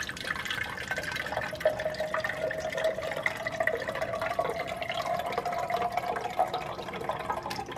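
Liquid streams steadily from a Wunderbar soda gun into a container for a brix test, a continuous pouring, filling hiss with a faint rising tone, close and alone.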